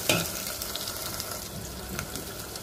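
Onion frying in oil in a pan while liver bhuna is cooked, a steady close sizzle with faint stirring scrapes throughout.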